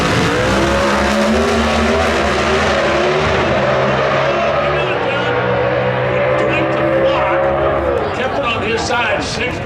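A Pro Stock Chevrolet drag car at the 2022 NHRA Winternationals qualifying roars loud and close through a full-throttle run, its engine pitch shifting as it pulls away, while an announcer talks over it.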